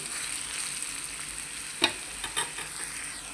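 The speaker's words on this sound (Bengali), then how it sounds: "আলু ভাজি খুব মচমচ করে।" Potatoes frying in hot oil for crispy aloo bhaji, a steady close sizzle with a few sharp scrapes and stirring clicks from a utensil.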